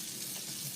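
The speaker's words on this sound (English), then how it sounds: "top it off with some more water" Water pours steadily into a soup pot as a continuous close rush, short and unbroken, with no talk.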